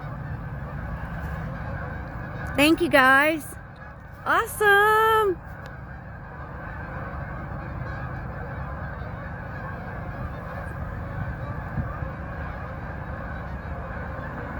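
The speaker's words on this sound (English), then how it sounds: "It is kind of hard working with wild geese." Wild Canada geese honk in a flock, two loud bursts of rising calls close by over steady background hiss, followed by someone speaking briefly.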